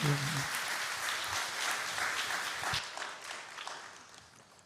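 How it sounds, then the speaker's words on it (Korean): A church congregation at a Sunday worship service breaks into warm applause, loud at first and then gradually fading, with some faint voices mixed in. "박수 한번 할까요?"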